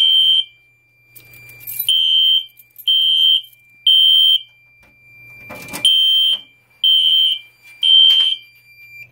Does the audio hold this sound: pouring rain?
no